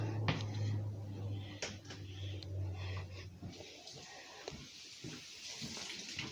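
Tap water running into a bottle, a continuous wet rush with a few splashes and knocks, faint, with a brief voice in the background.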